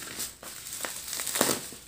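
A secondhand phone's box packaging is torn open by hand, giving faint, close crinkling and ripping bursts in short irregular snatches.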